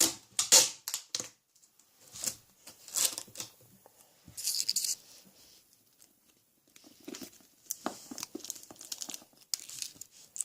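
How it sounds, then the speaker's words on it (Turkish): Adhesive tape is pulled, torn and pressed while a bandage for a pony is being taped, giving irregular crinkly rips and crackles in bursts, close and fairly clear, with no speech over it. "şunu şöyle bantlayabiliriz"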